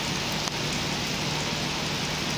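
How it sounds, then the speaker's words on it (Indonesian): Steady rain pours at Madiun train station, a dense, even hiss of falling water with a brief tap near the start, quiet and continuous with no voices. "Langsung disambut hujan ya teman-teman"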